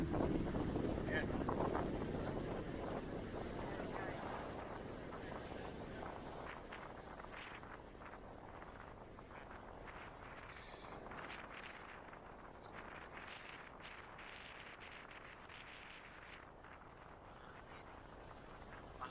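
Steady wind buffets the microphone with a low rumble, strongest at first and easing a little, while a voice talks faintly underneath, high up on a sightseeing bus in Sydney, Australia.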